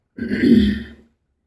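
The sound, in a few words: throat clearing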